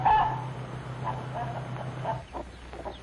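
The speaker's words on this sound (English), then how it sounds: "2-month-old chickens and almost grown up." Two-month-old, nearly grown chickens cluck softly on a farm, a few scattered calls over a low steady hum, fairly faint and close.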